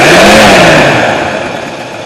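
A Ford Mustang engine with a lifter pumping up runs loud and close, a rough mechanical roar that sags from a higher rev toward a lower, steadier idle with a faint clattery edge.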